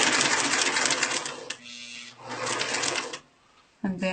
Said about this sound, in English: I'm removing my last pin and sewing until the connection between the two seams